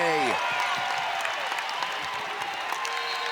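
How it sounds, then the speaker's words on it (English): A packed arena crowd at JPJ erupts into loud, sustained cheering and applause during a Radford versus Virginia women's college basketball game, the roar steady and close throughout with a commentator's voice faintly mixed in. "Erupts the crowd here at JPJ."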